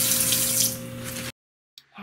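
Water gushes loudly from a sink faucet for about a second, then cuts off abruptly, followed by brief faint handling noise.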